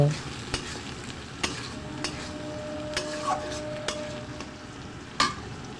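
Potatoes with green chillies fry in a pan, a steady close sizzle broken by sharp clinks and scrapes of a spatula stirring at irregular intervals.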